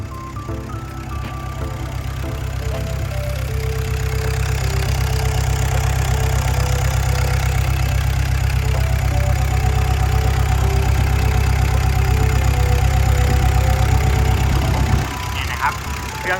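A Komatsu WA100-6 wheel loader engine idles close by with a loud, steady low drone and a faint whine above it, running unchanged until it drops off sharply near the end.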